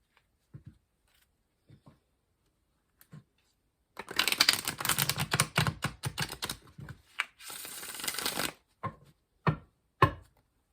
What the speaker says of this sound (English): I just like to give these a really good shuffle for you guys